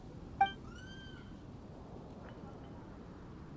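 The cat Paisley in Genshin Impact gives a single clear meow, close and fairly soft, over a low steady background hum, with a faint second sound later.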